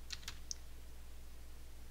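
A few quick clicks on a computer keyboard during a gaming session. Three soft taps sit close together at the start, then only a low steady hum continues under a quiet background.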